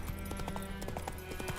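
Roach the horse gallops in The Witcher 3, hooves clip-clopping in a quick steady rhythm up close over a continuous game music bed.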